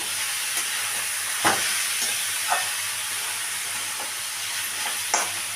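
Pointed gourd (potol) stirred in a frying pan gives a constant hissing sizzle, with a few sharp scrapes and taps of the spoon against the pan.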